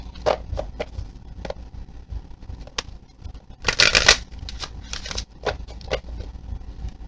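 Tarot cards being shuffled up close in a series of crisp riffling bursts, with a louder flurry in the middle and quieter shuffles around it.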